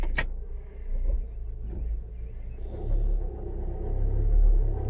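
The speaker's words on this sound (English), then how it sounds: "Actually, I think that's the exhaust rattling." A low, steady rumble of a car with a rattling exhaust giving an uneven drone from underneath, swelling slightly at times; a sharp click sounds at the start.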